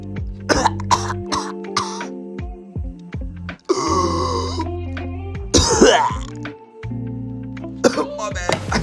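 A person who has just choked coughs hard several times, close by, with harsh throat clearing and raspy gasps between uneven bursts.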